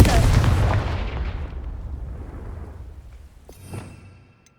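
A Confringo spell blast in Hogwarts Legacy hits with a loud, deep boom that rolls off slowly over several seconds, followed by a smaller secondary burst.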